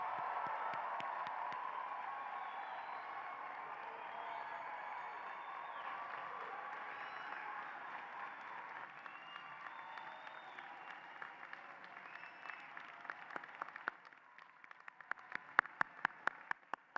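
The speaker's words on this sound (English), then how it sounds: "let's give them a great round of applause." A university honors college commencement audience applauds graduates in a long, quiet, steady wash of clapping that thins out into scattered individual claps near the end.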